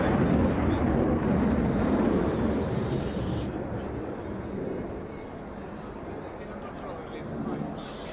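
A Tornado combat jet flies an airshow manoeuvre, producing a loud, broad roar that slowly fades and then steadies at a lower level, with commentary heard over it.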